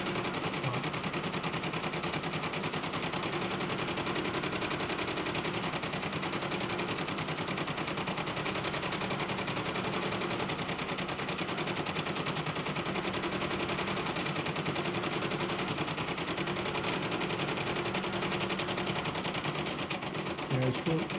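A Brother PE embroidery machine winds thread onto its bobbin with a continuous, loud, even mechanical buzz that holds steady throughout.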